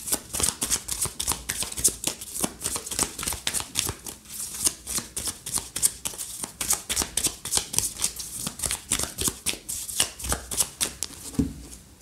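Tarot cards are shuffled by hand for a five-card reading, making close, continuous riffling and slapping bursts in a quick, uneven rhythm with no talking.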